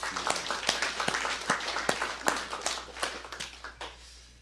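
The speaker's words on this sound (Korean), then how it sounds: "하나님께 영광의 박수 올려 드리겠습니다." Church congregation applauding during a Sunday worship service, a scattered crowd of hand claps with distinct individual slaps standing out, steady and moderately loud for a few seconds.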